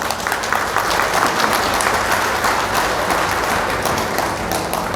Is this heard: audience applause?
yes